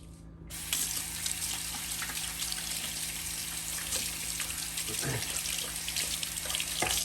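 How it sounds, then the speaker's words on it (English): Hands being washed under a running tap in a kitchen, a steady close rush of water with small splashes as the hands move, no one talking. "Always important before you start any of these jobs to wash your hands."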